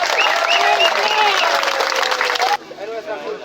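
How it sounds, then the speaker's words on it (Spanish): Loud crowd applause with a dense wash of clapping and some voices mixed in, at a Bribri-Cabécar ancestral stone-pulling cultural event; it drops off suddenly near the end, leaving quieter chatter. "Un aplauso para todos nosotros."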